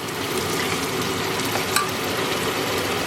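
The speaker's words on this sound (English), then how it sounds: "we're just going to stir it and basically let it boil dry" Risotto alla Milanese simmering in a pan as broth is stirred in, a steady close bubbling sizzle running throughout with no talk.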